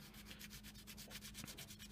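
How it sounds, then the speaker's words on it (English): Rapid, rhythmic rubbing of sandpaper by hand on a resin ring, quiet and close, a steady back-and-forth scratching. "because you're sanding it by hand"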